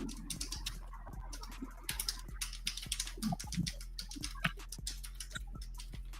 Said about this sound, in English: I was typing fast as hell.